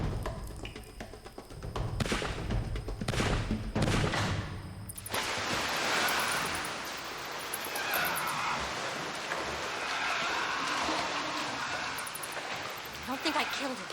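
A gun fires in the adventure video game Return to Mysterious Island, with a few loud, sharp shots early on, then a broad noisy rush with horse-like whinnying and thuds underneath.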